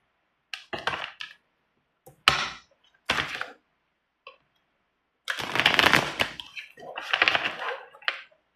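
A deck of cards being shuffled in separate bursts of riffling and flapping, short ones at first and then a longer stretch near the end, all close and crisp with silence between the bursts.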